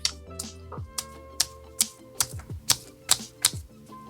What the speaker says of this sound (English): y'all hear me slapping myself